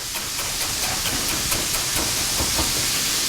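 Garlic sizzles in a pan for shrimp scampi, a steady bright frying hiss with faint crackles, constant and close with no talk.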